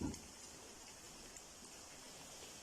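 Chicken nuggets frying in oil over medium heat give a steady, soft crackle and hiss, like light rain, quiet and even throughout with no talking.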